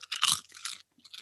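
Popcorn is crunched and chewed close up in several loud, crisp bursts with brief pauses between bites.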